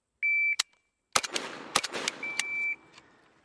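Shot timer buzzer beeps, then a string of pistol shots on a practice range: sharp, loud reports in a quick irregular series, followed by another beep.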